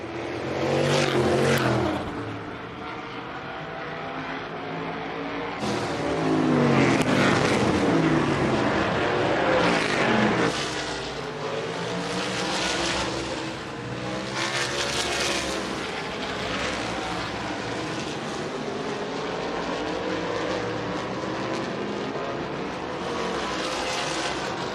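A winged sprint car engine revs and accelerates on an oval track during a C-main race, loud and continuous with rising and falling harmonic sweeps as it speeds up over warm-up laps.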